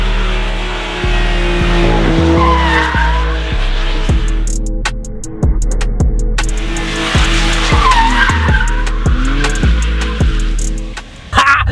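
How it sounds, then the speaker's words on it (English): A 2020 BMW M2 Competition slides sideways into an accidental donut, its tires squealing loudly and continuously while the engine pulses through repeated revs, close and intense throughout. "this car goes sideways very easily"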